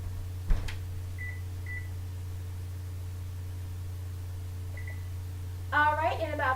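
An oven control panel gives a few short, faint beeps while the temperature is set to 425 degrees, over a steady low hum in a home kitchen. A voice briefly speaks at the end.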